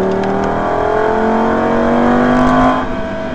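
Loud in-car engine roar of a Superleggera racing at Hampton Downs circuit, a sustained high rev climbing steadily under acceleration, then easing slightly near the end.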